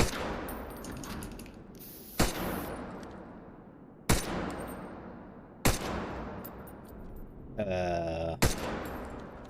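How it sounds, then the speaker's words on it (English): In the video game Wardogs, five sharp gunshots ring out about two seconds apart, each ricocheting off a metal container with a clanging, decaying tail, and a brief warbling whine comes just before the last shot. "Fire at the edge of the container and watch the bullet rebound."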